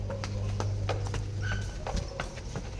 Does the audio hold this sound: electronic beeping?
no